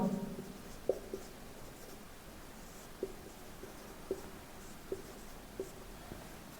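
Quiet chalk or marker writing on a board during a science lesson, faint scratchy strokes and a handful of soft taps spaced irregularly over a hushed room.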